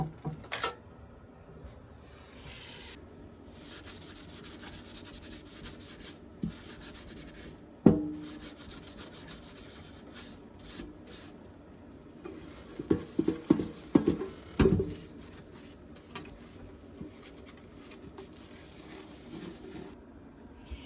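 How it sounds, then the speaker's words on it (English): A soft dish brush scrubs dishes in a zero-waste washing setup, giving a steady, close rubbing and bristle-scraping sound with a few louder knocks and clatters of dishware along the way. "the dish brush is like a good scrubber, but it's soft enough to go around edges"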